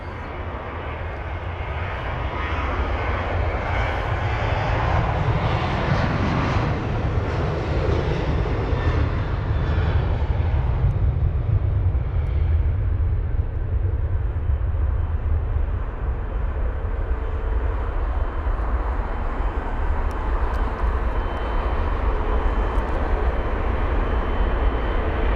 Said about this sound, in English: Air Algeria. 737-800 off to Algiers, flight number AH2055, our next departure